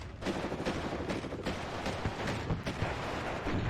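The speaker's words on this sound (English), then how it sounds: "We've also got the Plumya grenade launcher here being used." Plamya grenade launcher pounding away during a night battle in WARNO, a dense, rapid string of thudding blasts and crackling gunfire continuing loud throughout without pause.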